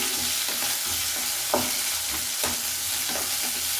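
Curry leaves and onion fry in a pan with a steady, close sizzle, broken by a few soft scrapes of stirring.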